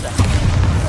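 A Bombarda spell explosion in Hogwarts Legacy, a single deep, muffled boom rising from a low rumbling bed and lingering briefly, loud and close.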